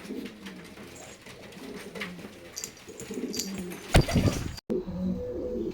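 Domestic pigeons coo in a loft of high-grade white flying birds, soft repeated low calls running throughout with faint chirps, a sharp knock near the end.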